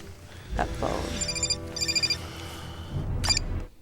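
A telephone bell rings in a movie scene, sounding in short bursts of repeated trills against background sound, loud and close.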